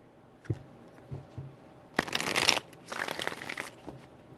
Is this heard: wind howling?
no